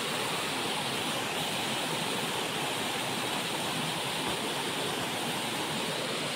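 A river flows as a continuous broad rush of water that stays steady and fairly loud throughout, with no voices.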